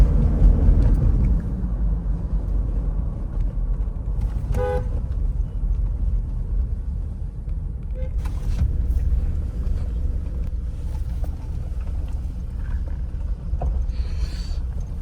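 Car on a village road, engine rumbling steadily close by for the whole stretch, with a couple of short horn toots from nearby vehicles as it pulls in to park.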